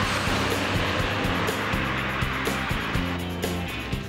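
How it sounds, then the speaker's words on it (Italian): A car engine runs steadily after its battery and alternator were replaced, a regular low pulsing idle with rhythmic beats and a broad hiss over it, close and moderately loud with no talking. "una volta cambiati batteria e alternatore e girata la chiavetta, per fortuna il motore ha fatto il bravo"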